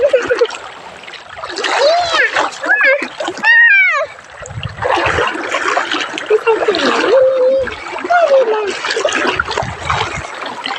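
Water splashes and sloshes repeatedly over several seconds, with people's voices and high calls mixed in nearby.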